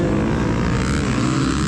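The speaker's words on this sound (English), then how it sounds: "Normally with these dead engine starts, I do pretty well, but this series does a hot engine start." Motocross bike engines idling loud and steady at a hot-engine race start during a TX2 finale in hilly terrain, a dense continuous rumble with no talk.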